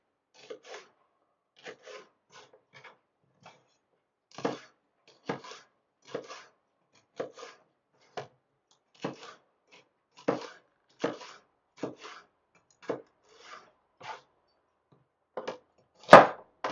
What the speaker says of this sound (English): Just slicing the peppers.